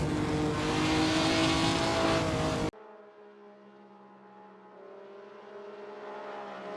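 1951 Grand Prix race cars at Spa roar along at speed, loud engine drone cutting off abruptly, then a thinner, rising motor tone as another car accelerates away.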